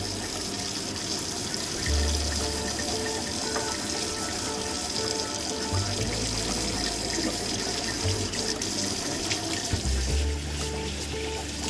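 Water runs from a tap over a road bicycle's disc brake rotor to rinse off oil, a steady close splashing stream that swells and shifts as the flow hits the metal.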